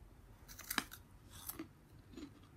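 Ridged Paleo Puffs cheese puffs being chewed close to the mic, a few crisp, quiet crunches and bites over a soft background hiss.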